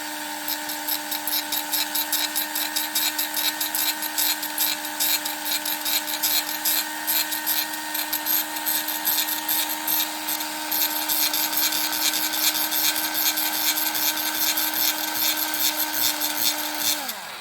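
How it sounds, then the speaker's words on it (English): Electric drill spinning a bit against a piece of plastic, a steady high whine with buzzing overtones that holds for the whole stretch, then winds down sharply at the end. "the bit's wandering around on a piece of plastic"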